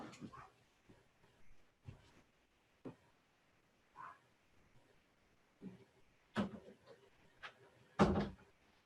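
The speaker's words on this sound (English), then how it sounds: "I'm going to shut the door." An indoor door is pushed shut, its closing thud the loudest sound near the end after a few quieter knocks and handling noises, with no talk.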